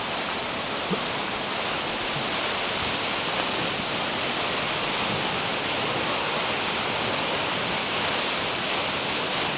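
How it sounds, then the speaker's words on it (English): A jungle waterfall near Boquete, Panama, gives a constant, even rush of falling water, like dense hiss, unchanging across nearly ten seconds, with no voices. "Love the waterfall."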